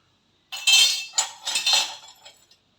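A set of two old metal ladles is handled, giving bright clinks and scrapes in a few bursts over about two seconds, close and fairly loud, with no talking.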